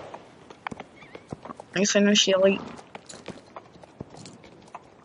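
A horse in the online game Star Stable Online whinnies loudly for about a second midway, with faint clip-clop hoof sounds scattered around it and a person talking over the top.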